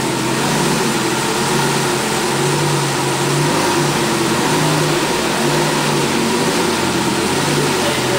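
A Lamborghini Gallardo engine running in Rio de Janeiro, a loud, steady throaty drone with a faint rise in pitch, close and continuous with no talk.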